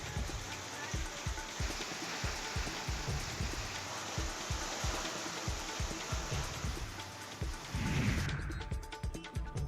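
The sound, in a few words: heavy unseasonal rain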